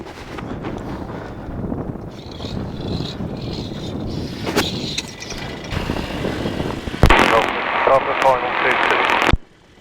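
Peabee Nanolight flexwing microlight engine roaring steadily at full throttle, loud and close with wind buffeting the microphone, rising sharply near the end before cutting off abruptly.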